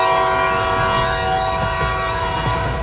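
Train horn blaring steadily and loud over the rumble of a passing train, the sustained tonal blast dominating the short stretch with rolling wheel noise beneath.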